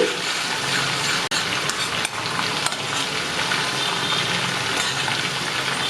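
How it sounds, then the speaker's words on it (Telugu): A homemade hair-oil mixture is stirred in a pan over a stove, producing a steady, close, even hiss of sizzling oil with a few faint clicks of the spoon, with no voices. "ఇదంతా కూడా కలిసేటట్టుగా కలుపుకుందామండి"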